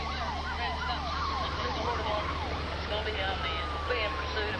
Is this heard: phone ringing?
no